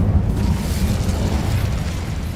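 A fiery Incendio spell in Hogwarts Legacy bursts out as a loud, rumbling whoosh of flame that roars steadily for a couple of seconds.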